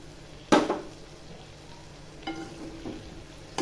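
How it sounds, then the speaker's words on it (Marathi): Coriander powder toasts in an aluminium wok over a low gas flame: a sharp utensil clank opens, then faint sizzling and light scraping follow, with a few small knocks. "धना पावडर पण चांगली परतून घेते"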